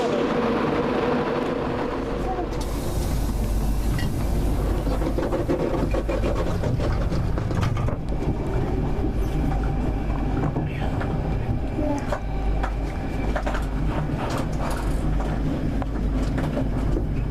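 Class 91 electric locomotive 91117, West Riding's Limited, passes close by outdoors with a loud, sustained rushing roar and rumble, buffeted by wind noise on the microphone.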